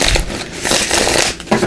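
A deck of tarot cards is shuffled up close in a single continuous riffle. The papery rustling and flapping is loud and sustained, followed by a short final tap.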